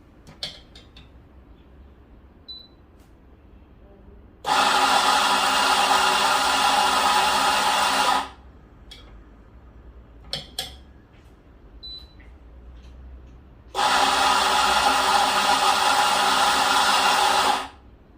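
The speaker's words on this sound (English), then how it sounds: "let's grind some beans" An RF64W coffee grinder fitted with SSP burrs grinds beans in two loud, steady whirring bursts of a few seconds each, separated by a quiet gap with small clicks and taps.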